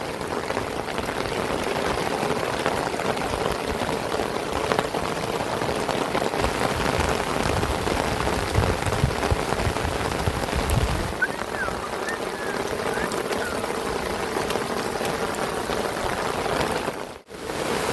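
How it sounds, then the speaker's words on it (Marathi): Steady heavy monsoon rain drums and hisses on surfaces nearby in a flooded village in Kirwali, Karjat, continuous and loud, with a brief sharp interruption near the end. "बघू शकता गाईज, पाऊस दिसतोय तुम्हाला."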